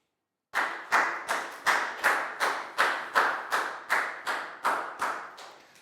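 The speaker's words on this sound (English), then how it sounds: "High five and a big round of applause for Prel, please, guys" Children in a Year 4 classroom clap together in a close, steady burst, about a dozen sharp, evenly spaced claps in unison, each one ringing briefly before the next, with no talk over it.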